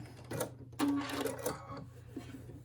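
A Brother sewing machine fitted with a walking foot runs in short bursts, stitching quilter's-weight muslin with a rapid mechanical whir that stops and restarts, close and fairly loud.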